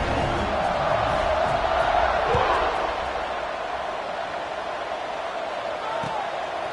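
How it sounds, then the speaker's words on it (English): Stadium crowd noise builds ahead of a college football kickoff in a video game, a steady wide roar of the crowd with a couple of dull thumps. "this crowd now ready to get behind them"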